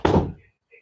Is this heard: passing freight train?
no